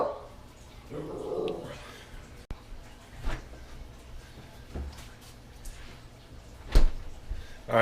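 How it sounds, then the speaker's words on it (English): A pet dog barks and whimpers indoors in a home kitchen, several scattered, moderately loud barks over roughly eight seconds against background room noise. "my dog is going nuts right now"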